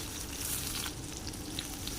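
Chopped onion frying in hot oil already tempered with cinnamon and cardamom, a steady, close, hissing sizzle with light crackle, moderately quiet and without talk.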